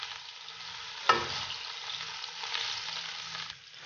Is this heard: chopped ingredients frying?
yes